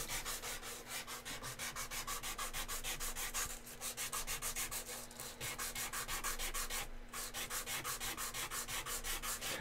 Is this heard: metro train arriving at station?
no